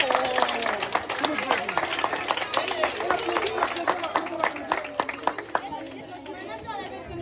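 An audience at a school celebration claps in a busy, uneven patter, with lively chatter and voices over it, thinning toward the end.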